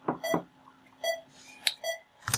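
Short synth beeps built from a square wave with a roomy reverb tail, a handful of bright, spaced stabs in an irregular rhythm, fairly quiet and heard alone.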